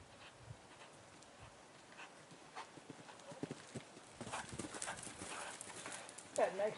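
Horse hooves clip-clopping on arena footing at a show-jumping clinic, a run of soft irregular hoof strikes growing louder toward the end, with faint background noise and possible distant voices.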